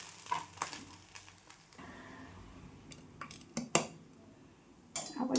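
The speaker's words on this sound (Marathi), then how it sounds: "चला आता सर्विंग प्लेटमध्ये काढून घेते" Spoon scraping and clinking against a pan and serving plate as a leftover chapati and rice breakfast dish is dished out, soft close metallic taps and scrapes, sparse and quiet.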